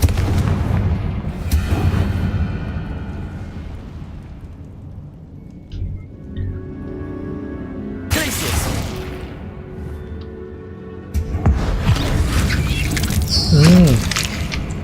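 Explosions from the Confringo fire spell in the Hogwarts Legacy video game, several loud booming blasts with rumbling decays spread across the clip, mixed with game sound effects and some speech.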